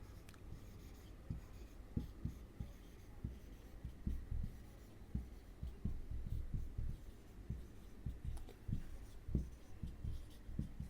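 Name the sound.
writing out a math expression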